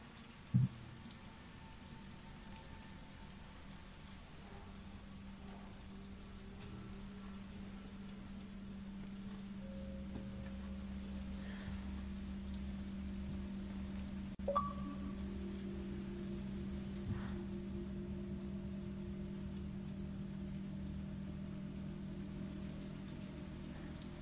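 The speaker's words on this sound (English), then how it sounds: "I love the rain." Steady, faint rain falls throughout in the Resident Evil 3 video game, a constant soft hiss under a low hum, with a few small clicks and tones.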